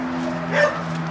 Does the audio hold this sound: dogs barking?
yes